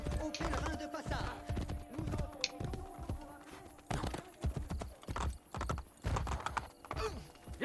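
Horse hooves clip-clop rapidly on hard ground in the Assassin's Creed Brotherhood video game, a galloping rhythm up close with occasional whinnies, game ambience and bursts of talk mixed in.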